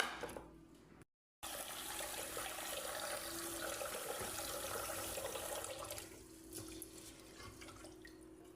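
Rice is rinsed under running water in a home kitchen. A steady, moderately quiet rush of tap water runs with a brief break near the start and slight splashing changes toward the end.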